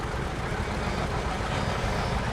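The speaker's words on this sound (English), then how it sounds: "John Deere diesel tractor." A John Deere diesel tractor rolls past in the Port Alberni fall fair parade, its engine a steady, dense rumble close by, loud and unbroken throughout with no talk over it.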